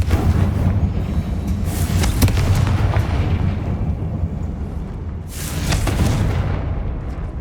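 A Confringo blasting spell in the video game Hogwarts Legacy goes off loudly, with a heavy sustained rumble, sharp cracking bursts and a second strong blast a few seconds later, no voices.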